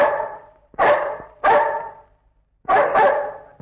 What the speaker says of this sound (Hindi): कुछ समझी कुत्ता क्यों भौंका